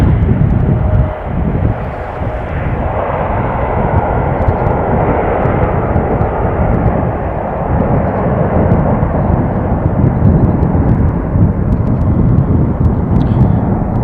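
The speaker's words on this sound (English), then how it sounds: "Another A320 from Aer Lingus takes to the sky." An Aer Lingus Airbus A320 takes off at Amsterdam Schiphol, a steady broad jet-engine roar that stays loud and constant throughout, with no voices over it.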